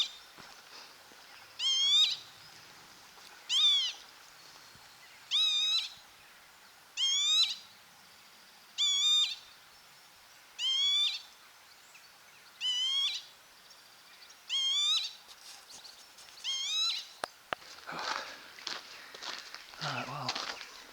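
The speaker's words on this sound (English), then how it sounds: "Kind of strange bird are you?" An owl calls at night on Kinder Scout, a series of about ten evenly spaced, sharp high calls roughly every two seconds, fairly near, followed by footsteps and rustling at the end.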